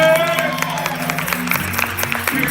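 A church congregation claps for visitors, a spread of brisk handclaps and scattered cheers mixed with a sustained musical tone and voices.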